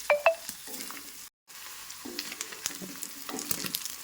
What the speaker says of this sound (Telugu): ఇలా మంచిగా చాలా రోస్ట్గా ఉండాలంటే ఇలా ఎర్రగా వేపుకోవాలి.